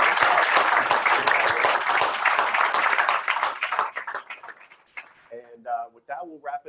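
Audience applause for the panelists at the close of a breakout session at an education symposium, a dense, loud burst of clapping that thins and fades after about four seconds as voices start talking.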